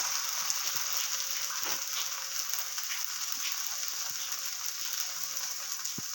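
Wheat flour dough frying in a pan, giving a steady, even hiss of sizzling oil throughout, with faint occasional taps and scrapes as it is turned, and no talk.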